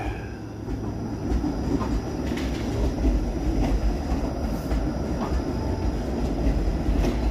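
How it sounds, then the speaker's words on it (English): Toronto's King streetcar rolls past on the street, a steady rumble of wheels on rail with faint squeals and clacks, heard at moderate distance with no talk. "Yeah, there goes the King streetcar."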